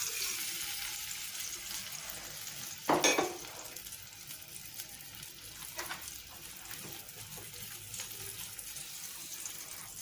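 Chopped tomatoes and ground ginger frying in a hot pan, a steady soft sizzle throughout with a sharper clatter near the three-second mark and faint stirring noises.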